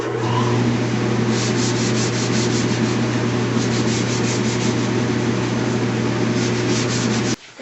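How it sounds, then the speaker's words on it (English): Steady, continuous sanding of a wood cutting board with P220 grit sandpaper, a close, even rubbing hiss with a faint rhythmic pulse that stops abruptly at the end. No one talks over it. "Okay, the sanding is done."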